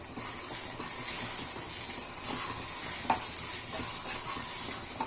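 Prawns for a Nellore-style fry are stirred with masala in a hot pan, giving steady sizzling and hissing with intermittent scraping clicks of the spoon against the pan, close and continuous.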